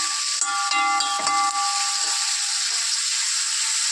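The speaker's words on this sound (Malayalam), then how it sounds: "സവോള ചേർത്തതിന് ശേഷം നന്നായി ഇളക്കി കൊടുക്കുക." Chopped onions sizzle in a pan for a soya chunk curry while being stirred: a continuous bright hiss broken by a few light scraping clicks, close and fairly quiet.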